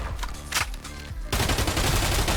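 Automatic gunfire from a weapon in the video game Contractors Showdown rattles out in a rapid burst, loud and continuous after a few shorter shots at the start.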